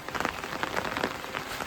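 Steady rain patters on a surface, a dense, even hiss of drops with no voices.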